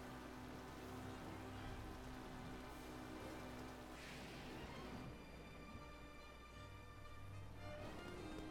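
Rain falls steadily in a Zelda game, a dense, soft hiss of drops on surfaces that runs without a break under faint game sounds and tones, quiet and even throughout.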